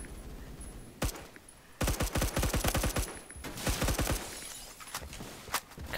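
Rapid gunfire in a first-person shooter with an ACOG sight, given as loud tap-fired bursts of close shots with short pauses between them and no speech.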